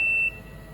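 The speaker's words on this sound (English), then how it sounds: "So that's the alarm telling us the cycle's done." A membrane press's cycle-done alarm: a single short electronic beep, a steady high tone lasting under half a second, then quiet hum.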